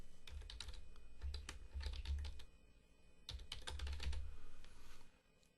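Typing text on a computer keyboard, two bursts of quick, close key clicks separated by a short pause, crisp and fairly quiet with no voices.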